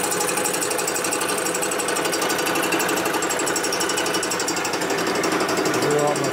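Machine cutter working a 1958–1960 Harley-Davidson Panhead cylinder head, heard as a loud continuous rattling, chattering grind that holds steady throughout, close and dense, with no talking over it.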